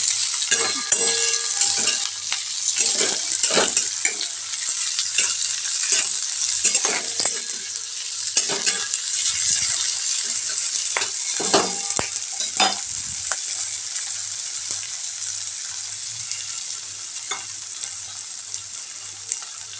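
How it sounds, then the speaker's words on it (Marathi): Cowpea pods and potatoes sauté in hot oil with a loud, continuous hiss, broken by frequent spatula scrapes and stirring knocks that thin out toward the end. "चवळी आपण नीट करून घेतली निवडून घेतली ती ॲड केल्याच्या शेंगा आणि छान असं तेलामध्ये परतून घ्यायचं"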